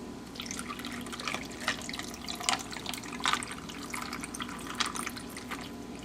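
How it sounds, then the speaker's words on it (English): Berry iced tea pours from a pitcher into a glass in a steady, close liquid trickle lasting several seconds, with small splashy drips scattered through it. "you can go ahead and pour yourself your glass"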